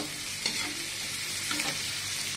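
Chopped onion and ginger sauté in a hot pan, a steady soft sizzle with a couple of faint stirring scrapes, close and quiet, with no talking.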